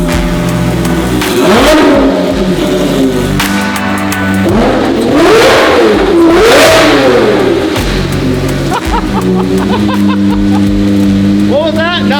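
A Porsche RS sports car engine with new corner exhaust pipes starts and revs, producing loud rising and falling revs in a few swells over a continuous idle, with people talking over it.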